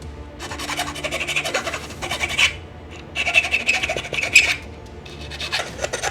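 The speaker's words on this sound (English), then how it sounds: "So we'll need to file that." A hand file rasps across a 3D-printed Doctor Doom helmet, close and fairly loud, in repeated back-and-forth strokes with a brief pause midway.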